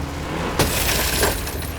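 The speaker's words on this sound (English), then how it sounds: "Smashed your window because you weren't listening." A sharp crash of a car window being smashed bursts out over a running engine, followed by a second crunching impact and scattering glass fragments, during an emergency response on a busy road.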